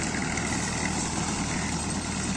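A tractor engine idles with a reaper attached, giving a steady, loud rumbling drone that runs unbroken from start to finish with no voices.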